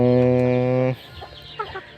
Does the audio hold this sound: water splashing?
no